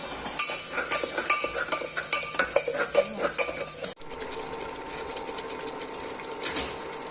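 Masala with green chili paste roasting in a pan for a bottle gourd (lauki) sabzi, with rapid spoon scraping and metallic clinks for several seconds, then a softer steady sizzle after a brief cut.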